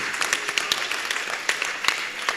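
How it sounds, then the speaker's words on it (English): Applause from an audience at a symposium, a dense crowd of claps rippling steadily and fairly loud throughout, with no voices rising above it. "So a round of applause for her again."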